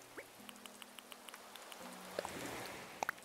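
Light rain patters in the Animal Crossing: New Horizons game as a soft, faint wash under a steady low tone, with a few small drips and plinks scattered across it and brighter chimes near the end.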